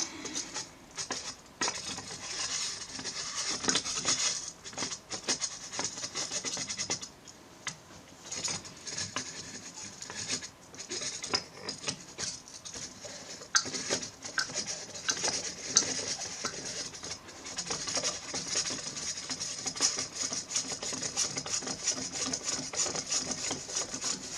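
A camera adapter is threaded by hand onto a telescope camera tube fitted with a focal reducer. Quiet, close scraping and rubbing come in intermittent bursts over a long stretch, with no talking.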